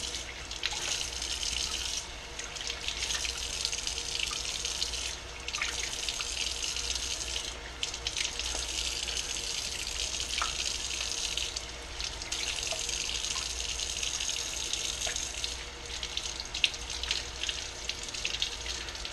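Kitchen tap water runs in a steady, unbroken hiss and splash while bluegill fish fillets are rinsed, close by and continuous throughout, with no voices.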